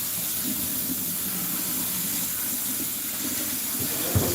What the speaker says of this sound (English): Just making sure this rice is nicely washed until the water turns out clear.